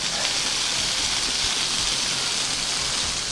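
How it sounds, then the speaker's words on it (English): A torricelli water jet at Alnwick Garden, water under hydrostatic pressure gushing in a continuous steady hiss and splash, close and constant with no other sounds. "This is a torricelli. It's water under hydrostatic pressure."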